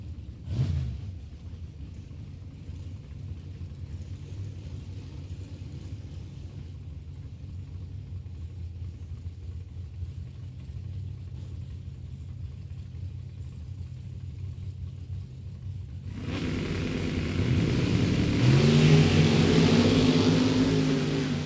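At a drag strip, a Camaro and a Nova idle with a low, steady engine rumble, then both roar hard as they launch near the end, loud and building.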